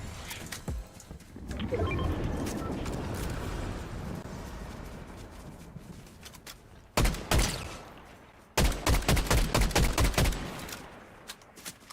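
Gunfire in the Disney Pinnacle video game: a scattered burst, then a short loud volley and a longer rapid string of sharp shots that fade out, heard over a low hum of game ambience with no talking.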